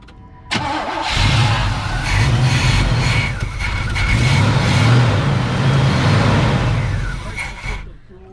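A scrap-yard 1980 Oldsmobile Cutlass engine cranks and catches abruptly, then runs at a rough, loud idle with surging revs before cutting off, close by, with people talking over it.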